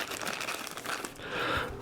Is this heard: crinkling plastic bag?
yes